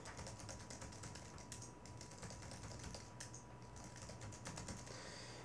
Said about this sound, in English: let's type in our description here